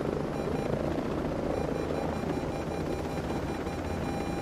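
Helicopter in Ghost Recon Breakpoint, a steady, dense rotor roar that stays loud and close for the whole clip with no break.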